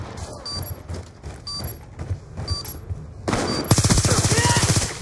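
Video game gunfire, several bursts of shots that grow into a dense, rapid volley near the end and sound loud and close, with faint voices under the earlier part.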